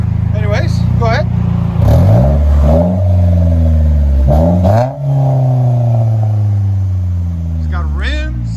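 A 2010 Chevy Equinox with a 2.4L engine and DTM muffler exhaust revs repeatedly, its pitch rising and falling in loud, close surges that run for several seconds between blips.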